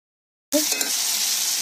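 Water poured into a thick, fried-down vegetarian omelette curry in a pan: after a short silence, a sudden bright sizzle and bubbling hiss bursts up and continues steadily, close and fairly loud.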